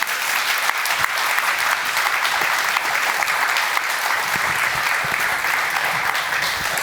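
Audience applause at the end of a festival talk, dense sustained clapping from a large crowd filling the room at an even, loud level throughout.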